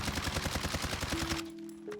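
Rapid automatic gunfire from a first-person shooter game, Warzone, a tight burst of evenly spaced shots lasting about a second and a half, then a short ringing tail; loud and close with no talking.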